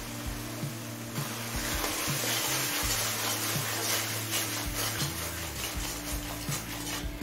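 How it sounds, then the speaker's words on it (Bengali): Spice paste with salt for a prawn pulao is stirred in a pan, making a steady soft scraping and light sizzle with occasional clinks of the utensil against the pan, close and continuous without talk. "নুন দিয়ে মশলার সাথে মিশিয়ে নিয়েছি।"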